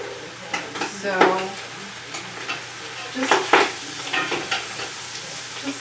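Bacon frying in a pan while making minestrone soup, giving a steady sizzle broken by sharp pops and spits, with light utensil clinks and a brief word spoken over it.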